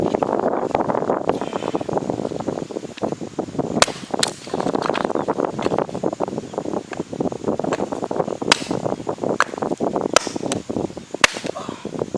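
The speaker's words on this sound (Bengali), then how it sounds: "আমি কাঠগুলো ফাটিয়ে রেডি করে রাখি" Firewood is split outdoors in a village, with a handful of sharp, scattered chopping cracks rising above steady wind-like rustling noise.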